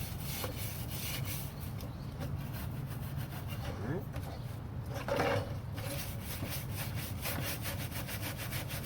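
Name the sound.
scrubbing bleached boat wood with a brush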